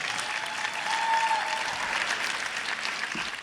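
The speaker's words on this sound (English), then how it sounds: "let's give our student talent a round of applause" An audience at a city event claps for student performers, a dense, sustained round of applause from a sizable crowd that holds steady and begins tapering off at the end.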